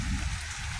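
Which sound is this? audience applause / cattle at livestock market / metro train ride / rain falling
rain falling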